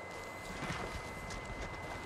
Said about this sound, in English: Now we're gonna follow the horses.